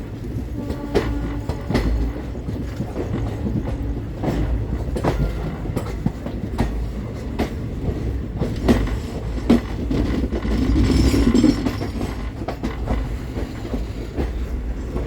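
Mangaluru–Mumbai Superfast Express (12134) crawling slowly into Diva Junction, a steady low rumble of rolling wheels and carriage noise with occasional rail clicks, growing slightly louder toward the end, no talking.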